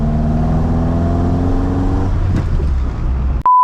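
Ford Mk1 Escort rally car engine pulling hard inside the cabin, a loud steady drone with rising harmonics that climbs in pitch before easing off, ending on a brief electronic beep.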